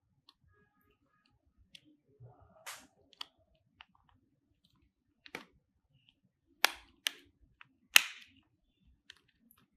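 A replacement lens for Oakley Felon sunglasses snaps into the frame grooves, giving a few sharp, quiet pops and clicks scattered over several seconds with faint handling noise between them.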